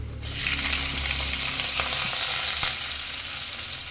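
A loud, steady sizzle starts abruptly and keeps hissing as spices with garlic, green chilli and ginger fry in hot oil, with occasional stirring scrapes underneath.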